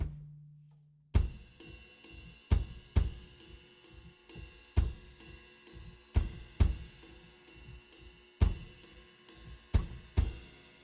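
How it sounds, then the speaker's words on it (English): A drum kit bass drum thumps in a steady pulse with a ride cymbal ringing over it, a sharp repeating pattern of hits roughly twice a second after a brief low hum at the start. "I'm talking about the drum kit now, the bass drum and the ride cymbal."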